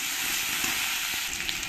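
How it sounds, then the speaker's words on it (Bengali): Potatoes frying in hot oil in a home kitchen, a steady broad sizzle with soft crackles and pops running throughout, close and continuous with no talking. "আলুগুলোকে একটু ভালো করে ভেজে নেব।"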